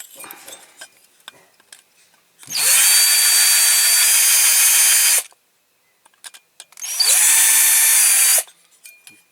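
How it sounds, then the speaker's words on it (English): A power drill whirs in two loud, high-pitched bursts of a few seconds each, separated by a pause with light clinks and handling noises, while taking apart a Dinky Toys Big Bedford die-cast model truck. "drill."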